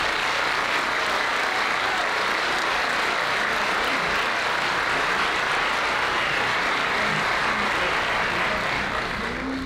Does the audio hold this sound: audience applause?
yes